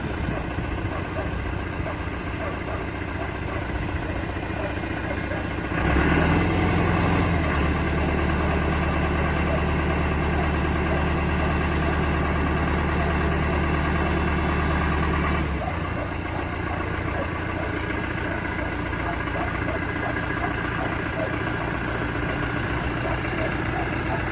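A Basak tractor engine idles steadily after being started. The low, continuous rumble is close, with a brief louder surge early on that then settles back to an even idle.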